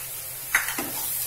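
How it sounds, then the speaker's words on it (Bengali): Slit green chillies dropped into hot oil give a brief sizzle with a couple of soft clatters against a steady background hiss, short and fairly quiet. "আমি চারটে লঙ্কা চিরে দিয়েছি, ছেড়ে দিলাম।"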